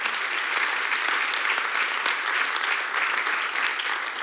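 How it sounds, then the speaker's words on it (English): A church congregation claps in praise to God, a dense, steady wash of many hands filling the room at full strength throughout with no voices on top. "give the Lord a hand clap of praise"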